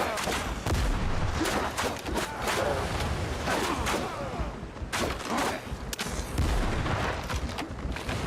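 Gunfire in the pirate game Windrose, rapid shots and booms cracking out densely over about eight seconds at a steady loud level, with game sounds and voices mixed in underneath.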